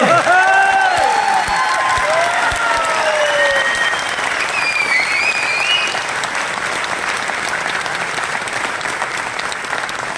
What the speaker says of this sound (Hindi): जो कर रहे हैं उनके लिए कितनी जोरदार ताली होनी चाहिए।